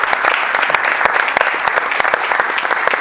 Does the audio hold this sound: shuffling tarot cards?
no